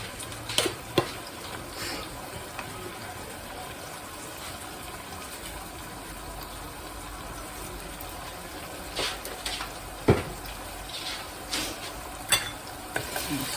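Spoon stirring red pepper flakes frying in oil in a pot, a steady low sizzle with scattered scraping clicks and knocks against the pot, close and fairly quiet.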